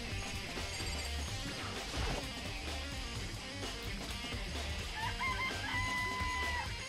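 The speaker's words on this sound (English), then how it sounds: "I count 4 chickens." Several chickens clucking and a rooster crowing inside the greenhouse of the Danganronpa video game, a steady dense barnyard chorus with game sounds, heard alone without talk.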